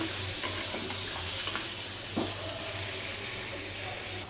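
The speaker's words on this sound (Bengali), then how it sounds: "এখানে আলুগুলা ভেজে দেব, তার জন্য আলু ভাজা হচ্ছে।" Potatoes fry in oil in a home kitchen, giving a soft, steady sizzle with occasional stirring and clinks, faint and continuous, with a tap running and dishes being washed nearby.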